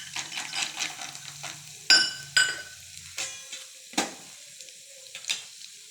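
Chana dal, urad dal and peanuts fry in hot oil, a soft steady sizzle broken by spoon stirring and several sharp metallic clinks against the pan, close up with no voices.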